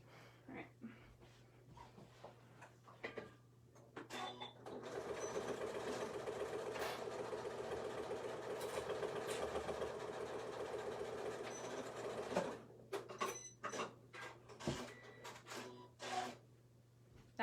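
A home sewing machine stitching a small beginner's tote bag, running in one steady continuous burst of about eight seconds between short clicks and handling noises, quiet and close with no voices.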